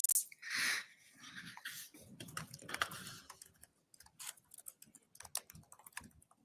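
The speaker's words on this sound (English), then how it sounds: "fast typing." Quick bursts of clicky keystrokes, faint and close, rattling in an uneven rapid rhythm with brief pauses and some soft breathing.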